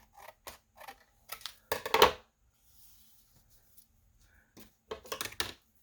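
Paper being trimmed with scissors while decorating a summer journal, heard as a few short crisp snips spaced across the moment, with a louder cluster near the middle and a quiet pause before the final cuts.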